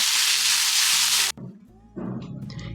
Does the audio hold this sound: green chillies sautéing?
yes